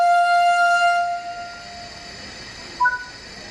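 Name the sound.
BR 766.2 train departing in Train Sim World 3 video game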